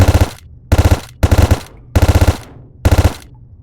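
Rapid bursts of automatic gunfire in the VR shooting game Gun Club VR, five loud close volleys of several shots each separated by short pauses, with no talking.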